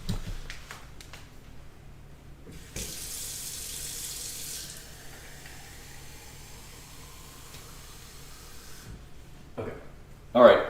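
Water runs from a tap in a steady hiss for several seconds, starting abruptly and cutting off, with faint room noise and a loud knock at the end; no one speaks.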